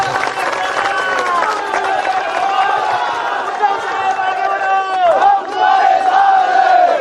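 A large crowd at a political rally roars and shouts continuously, loud and close, with clapping mixed into the rising cheers.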